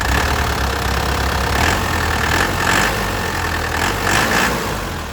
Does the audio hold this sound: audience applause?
no